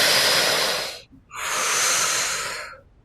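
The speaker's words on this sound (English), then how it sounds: "The breath pattern that we're going to do is called the tri-active breath." Two long, loud breaths close to the mic in a tri-active pattern, a hissing inhale drawn into the belly and then the chest, then a breathy exhale out through the mouth, separated by a brief pause.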